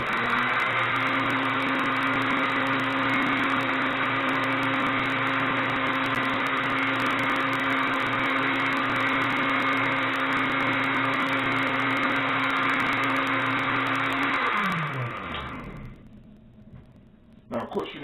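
Blender running while blending a drink, a loud steady motor whir that holds for about fifteen seconds before winding down and stopping, followed by brief quiet noises.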